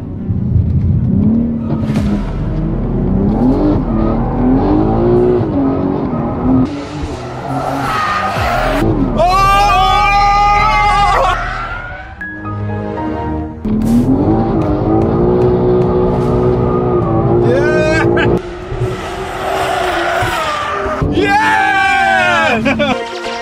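A BMW M3 Competition in 2-wheel drive mode takes a track corner, its engine loud and revving up and down through the gears while tires squeal, with someone talking over it.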